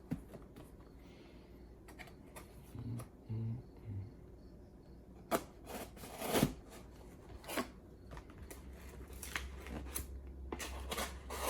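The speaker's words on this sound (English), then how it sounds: "Be very careful not to cut anything inside of here because this is not my knife." A knife slicing open the packaging of a Vero Axon unboxing, heard as scattered short scraping and rasping cuts with a few sharper rustles and snaps, fairly close and moderately loud over a quiet background, with no talking.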